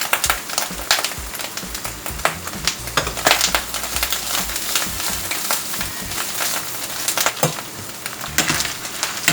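Vaca frita beef frying in oil in a pan while it is stirred: continuous close sizzling and crackling, broken by frequent scraping and clattering strokes of a utensil against the pan.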